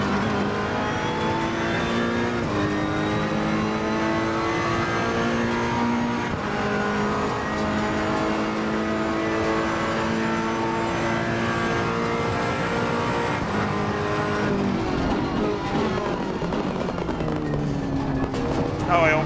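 A Ferrari 488 GT3 race car in Assetto Corsa Competizione at Monza brakes hard into a chicane from high speed, its engine note dropping through downshifts and then rising again. The car is loud and close, and a voice talks over it.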